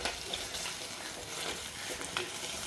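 Onions sautéing in a pan for a peppery fish curry give a low, steady sizzle with soft stirring scrapes, fairly quiet and close.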